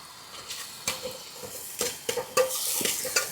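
Onion sizzles in hot oil with turmeric and salt, the steady frying hiss broken by several scraping stirs of a spoon against the pan.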